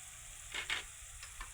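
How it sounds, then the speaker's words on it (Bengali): Spice paste with turmeric powder, red chili paste, cumin paste and tomato sauce stirred in a pan, a soft steady sizzle broken by a few short scraping strokes of the spoon, close and fairly quiet. "ভালোভাবে নেড়ে নিচ্ছি আমি।"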